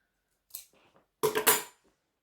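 Scissors snip through a length of zipper tape, a soft first cut followed by a louder double crunch of the blades closing, close by in an otherwise quiet room.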